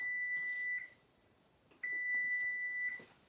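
Kitchen timer for baked banana nut muffins beeping in two long, steady electronic tones separated by a short pause, loud and close in a quiet kitchen.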